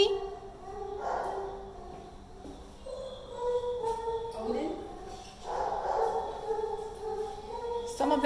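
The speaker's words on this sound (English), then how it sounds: "These are all the big dogs." Big dogs at an animal shelter bark, yip and whimper in repeated short outbursts from several animals close by, mixed with people chatting nearby.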